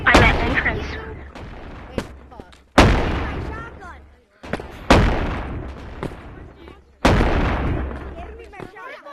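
Shotgun fire in the VR game Animal Company: four loud, sharp blasts spaced a couple of seconds apart, each with a decaying tail, while players shout and talk throughout.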